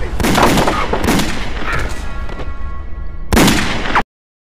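Gunfire in a violent fight scene, a dense continuous barrage of shots with booming bursts that fills the whole stretch, stopping briefly before one last loud burst and an abrupt cut to silence.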